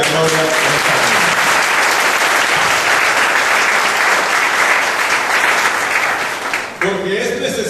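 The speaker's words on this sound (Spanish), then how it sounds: "Den un aplauso al Rey de la Gloria en esta mañana." A church congregation applauds during a Sunday morning service, loud sustained clapping from a large group filling the room for several seconds before fading, with a voice briefly audible at the end.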